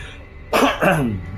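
A single rough cough in two quick bursts from a man with flu, close and loud against a quiet room, with no talking.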